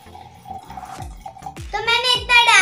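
Lemon water pours into a glass, a trickling stream whose pitch climbs steadily as the glass fills, growing louder toward the end, with soft clinks and a little background voice.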